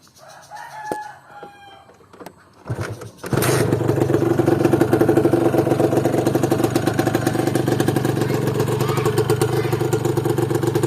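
A Honda LS125 motorcycle engine starts up after a rooster crows in the background, then settles into a loud, steady, close idle with an even rapid pulse for several seconds.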